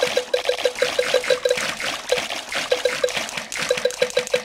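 Game-style water splashing and trickling from Peppa Pig and George swimming in a pool, a steady watery wash with a repeating chime-like tap sounding throughout.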